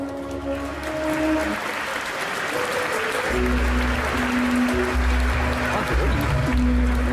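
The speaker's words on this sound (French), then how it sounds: "Je vais vous demander s'il vous plaît un tonnerre d'applaudissements pour Jinsei" Audience applause fills a cosplay fashion-show runway at the Yggdrasil Indoor 2023 convention, a steady wash of clapping over music with a thumping bass beat throughout.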